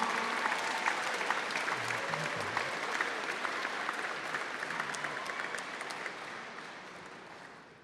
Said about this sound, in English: You may now recognize and applaud your Arlington Colts